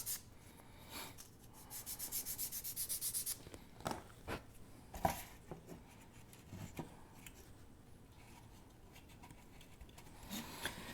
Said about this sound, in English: So what I'll do is I'll slightly bevel the sides to help match the stringers.